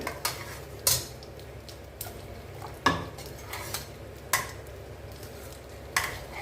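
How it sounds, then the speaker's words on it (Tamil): Hot oil sizzles with a steady hiss, punctuated by sharp, irregular pops and crackles as mustard seeds burst and splutter in the pan. "இப்போ கடுகு வெடிக்கட்டுங்க"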